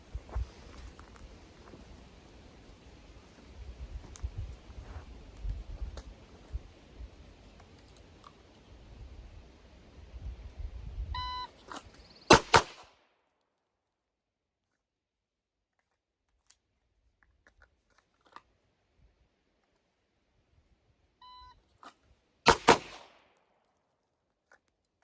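Pistol shots during a fast draw and reholster drill ring out as sharp, loud cracks, a tight cluster near the middle and another pair later, separated by near silence after some earlier handling noise.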